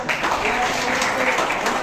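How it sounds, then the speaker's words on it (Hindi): Moderate applause from the crowd at a school sports competition closing ceremony, steady and brief, with a voice faintly audible underneath. "बेटा जोरदार तालियां"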